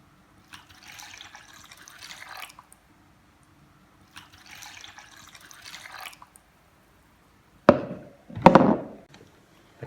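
Water being poured into a bowl to make bread dough, heard as two short bursts of hissy splashing, then two louder, closer splashes near the end, with no talk.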